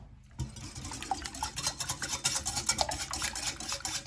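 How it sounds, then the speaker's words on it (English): Steady scraping and clinking of a whisk beating an egg and cinnamon mixture in a bowl, rhythmic strokes repeating close by with no talking. "It's hard to get that cinnamon to mix up in there."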